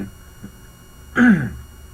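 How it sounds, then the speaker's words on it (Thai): A single short, rough throat clearing by a Buddhist monk close to the microphone during a Thai dharma radio program, a brief guttural rasp in an otherwise quiet moment. "จะมีเสียงกระแอมกระไอ"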